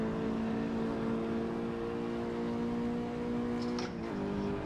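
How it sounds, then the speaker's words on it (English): Race car engine held at a steady high drone on track, then briefly blipped and dipped in pitch near the end during a heel-and-toe downshift, loud and close with no talk. "now I'm going to heel and toe and see how I get on."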